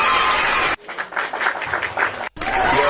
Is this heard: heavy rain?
no